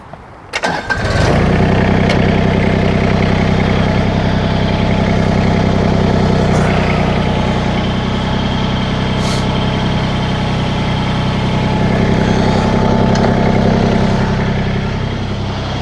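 An LS LB1107 tractor with a backhoe cranks, catches and settles into a steady, loud diesel idle that runs close and continuous for the rest of the clip.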